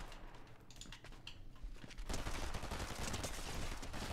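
Rapid bursts of gunfire from a shooting video game crackle in quick succession, quiet at first and then a louder, denser volley in the second half, with faint key clicks mixed in.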